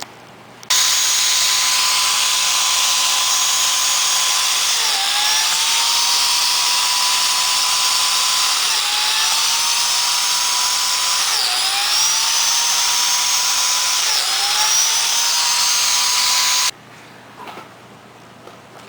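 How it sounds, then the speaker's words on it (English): A biscuit jointer runs steadily for about sixteen seconds, cutting slots into desk boards, with a loud continuous whine that dips in pitch several times as the blade bites into the wood, then stops abruptly. "I'm going to cut biscuit holes in each one"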